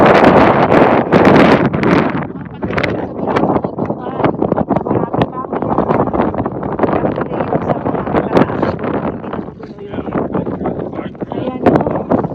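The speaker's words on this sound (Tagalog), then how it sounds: "Oh, mahangin dito sa taas." Strong, gusting wind buffets the microphone on a mountain summit at Donnelly's Dome, a loud continuous roar with rumbling bursts, while people talk throughout.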